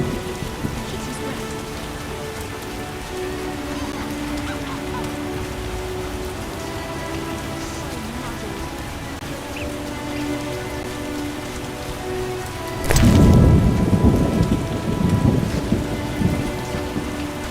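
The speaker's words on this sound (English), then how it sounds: "No rain like this in ages." Video game rain and thunderstorm in The Witcher: steady rain hisses throughout, then a loud crack and rumble of thunder break in near the end and roll on over the downpour.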